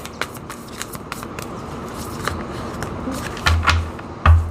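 A deck of tarot cards is shuffled close up, with soft riffling and light flicks building to a couple of louder thumps at the end.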